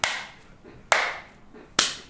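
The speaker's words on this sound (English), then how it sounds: "Let's give Vincent 3 dragonfly claps." Three sharp, evenly spaced hand claps ring out close by, each with a brief decay, with quiet gaps in between.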